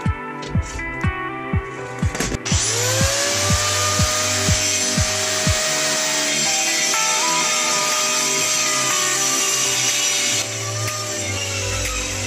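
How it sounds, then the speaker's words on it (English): A power saw cuts a profile into the end of a wooden countertop for an RV island extension, a few short bursts giving way to one long, loud, steady cut that runs to the end. "now I'm gonna go ahead and cut out my profile for the end of it here."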